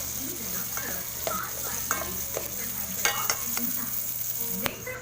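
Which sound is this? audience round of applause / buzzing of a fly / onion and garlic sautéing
onion and garlic sautéing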